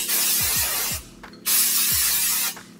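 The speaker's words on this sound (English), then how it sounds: "get some hairspray" Hairspray hisses from an aerosol can onto hair in two close, loud bursts of about a second each, separated by a short pause.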